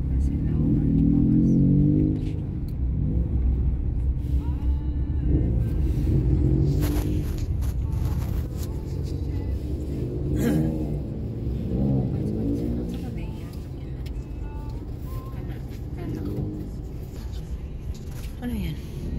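Heavy road traffic on a route from Manila toward Nueva Ecija, with a constant low rumble of many cars and engines moving nearby, while people in a vehicle chat over it the whole time.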